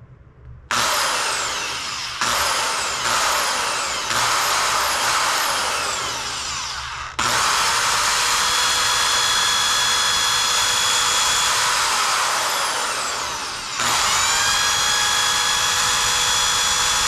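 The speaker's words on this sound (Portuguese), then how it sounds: "Agora é furar isso aqui um pouquinho." A power drill boring holes while making a spray paint transfer whines loudly and close in long sustained runs, with a series of short bursts early on, then continuous drilling with a brief break.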